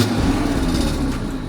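Audi RS3 8V fitted with Milltek downpipes and a Forge Motorsport intercooler, exhaust valves closed, drones with a loud, continuous, muffled engine rumble heard up close, holding steady without clear rises or falls.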